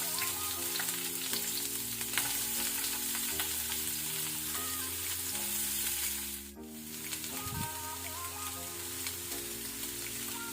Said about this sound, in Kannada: ಈರುಳ್ಳಿ ಒಳ್ಳೆ ಬ್ರೌನ್ ಕಲರ್ ಬರುವ ತನಕ ನಾವು ಫ್ರೈ ಮಾಡ್ಕೊಳ್ಬೇಕು